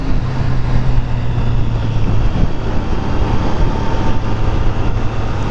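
A Triumph Street Triple R motorcycle on the move gives a steady, loud engine drone mixed with heavy wind rush throughout, with no talking.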